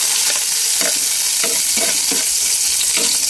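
Garlic and onion sauté in hot oil for eggplant with tuna, a loud continuous close sizzle broken by a few soft stirring scrapes, with no voices.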